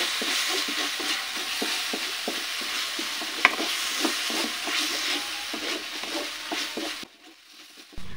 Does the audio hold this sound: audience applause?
no